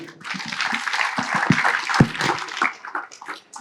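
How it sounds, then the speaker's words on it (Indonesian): An audience at an evening cultural gathering applauds a speaker, a steady wash of clapping lasting a few seconds with a couple of sharper claps and some voices mixed in. "kita beri tepuk tangan untuk Mas Ian"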